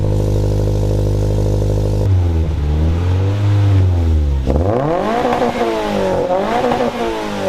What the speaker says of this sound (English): you hear the real sound of a real Subaru